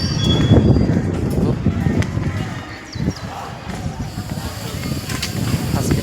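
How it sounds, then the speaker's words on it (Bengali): A passenger train pulls out of Khagraghat railway station, its low rumble and rattle rolling steadily throughout, with occasional faint squeals and a voice talking over it. "এই মুহূর্তে এখন খাগড়াঘাট রেলওয়ে স্টেশন থেকে ছেড়ে দিচ্ছে সেই ট্রেন"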